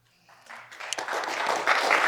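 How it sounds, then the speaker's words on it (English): Audience applause at a panel discussion, starting from near silence and swelling quickly into steady clapping from a crowd. "round of applause"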